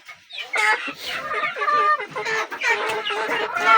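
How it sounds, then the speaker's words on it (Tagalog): Loud, busy clucking from several chickens nearby, overlapping squawks and cackles filling the whole stretch. "Ang ingay ng mga manok."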